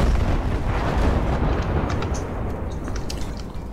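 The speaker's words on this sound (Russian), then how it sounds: "там все что-то взрывается все еще" Battlefield 5 explosions rumbling continuously, a loud, dense wall of low booms and crackling blasts with scattered sharper pops, heavy and close throughout.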